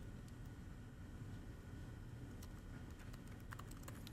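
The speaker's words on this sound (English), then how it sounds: "I'm typing in answers to the online audience" Soft, rapid clicking of someone typing on a computer keyboard during an online e-commerce presentation, faint and steady with a few sharper key taps near the end.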